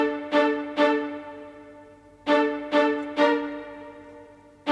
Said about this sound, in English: and you got to pair that with some full string staccato